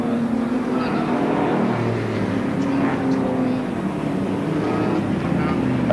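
Saloon cars racing around a speedway track at a 1980 meeting at Speedway Park, a constant roar of engines heard from a distance with a commentator talking over it.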